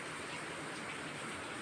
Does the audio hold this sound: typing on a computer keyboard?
no